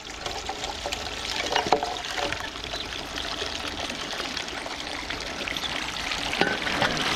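Water pours and trickles steadily through a gold-mining trommel washing shoveled dirt and stones outdoors in Michigan in November, a continuous close splashing wash with occasional louder splashes and no talk.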